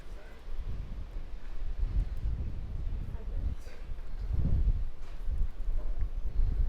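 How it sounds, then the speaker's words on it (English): Wind gusting outdoors on a hillside street in Frigiliana on the Costa del Sol, a continuous low rumbling buffet that swells toward the end, with faint footsteps and no clear talk. "Oh, listen to that wind."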